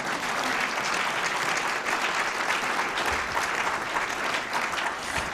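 A luncheon audience at the National Press Club claps in steady, dense applause that holds at full strength throughout, with no speech over it.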